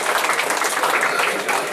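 Students in a college audience clap together in a brief, dense burst of applause, steady and fairly loud with no voices over it.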